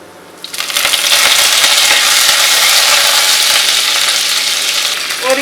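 Garlic and curry leaves sauté in a pan for crab masala curry, a sudden loud sizzle bursting in after a quiet start and hissing steadily, close by, with a few faint clinks.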